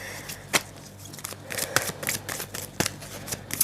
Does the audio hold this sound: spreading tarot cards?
yes